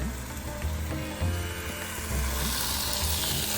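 Chicken kebab skewers with vegetables sizzle steadily on a barbecue grill, a continuous frying hiss with soft low thumps as pieces are turned, close and moderately loud with no talking.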